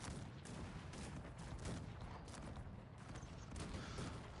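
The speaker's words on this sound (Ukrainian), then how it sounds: "Чи це ми гарматами так настріляли?" Cannons and massed gunfire crackle through a large battle in the strategy game Cossacks 3, with dense overlapping booms and shots in a continuous, fairly faint barrage.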